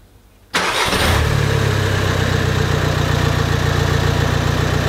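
A VAG car engine cranks and catches after a short quiet moment, then settles into a steady, even idle that runs on close and loud to the end, in a workshop during a camshaft and injector check.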